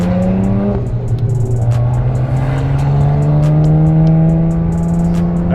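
A BMW 335i tuned to roughly 600 wheel horsepower accelerates hard, its engine note climbing steadily and loudly through the gear, close up and continuous with no talking.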